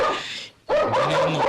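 A police dog gives a close, loud, drawn-out bark or whining yelp, then a short pause, then another sustained, wavering bark.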